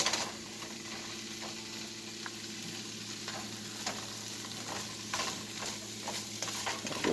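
Venison sizzles in a hot pan with oil, salt and pepper as it is stirred, a steady close frying hiss with soft scraping strokes of the utensil and no talking.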